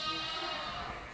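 Sheep bleat on a farm, a drawn-out baa held fairly loud and close, with a faint hint of talk underneath.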